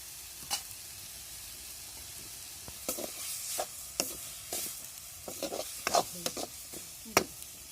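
Quiet frying in a pan with a low sizzle, punctuated by intermittent scraping and clattering stirs that grow busier toward the end.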